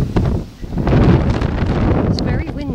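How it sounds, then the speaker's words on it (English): Strong wind buffets the microphone in loud, continuous low rumbling gusts at Kingston Seymour, with faint rustling and a brief voice near the end. "It's very windy"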